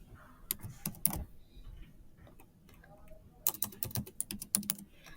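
Soft computer keyboard typing as a distance value is entered, two brief bursts of light, close keystroke clicks separated by a quiet pause, with no speech.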